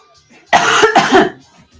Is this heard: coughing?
yes